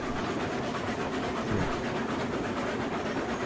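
Train rolling along rails in the game Railroads Online, heard as a steady continuous rumble and rattle at close range, with no talk.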